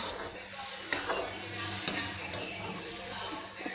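Chicken jalfrezi karahi fries in a pan while being stirred, a constant close sizzle broken by scraping spoon strokes and occasional light clinks.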